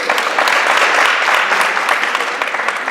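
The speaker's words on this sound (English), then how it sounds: "let's give you a round of applause" An audience at a mayor's speech at a fire station gives a round of applause, a dense burst of clapping from many hands that holds steady for several seconds and tapers slightly at the end.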